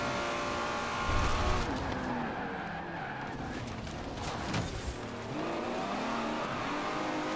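A racing car in the Forza Horizon 4 driving game accelerates hard, engine revving and climbing through gears with tyre squeal and skidding, loud and continuous without any talking.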